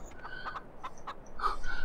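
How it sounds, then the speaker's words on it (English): Chickens in a farming video game cluck in a few short, soft calls, followed by a slightly louder squawk near the end. "Very talented chickens we have here."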